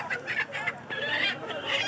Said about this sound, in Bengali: খালি মুরুগ আর মুরুগ